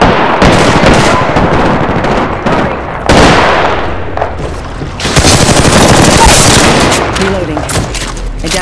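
Rapid, loud automatic gunfire in the video game Apex Legends, dense overlapping bursts close by, with a brief lull near the middle before the shooting surges again and continues to the end.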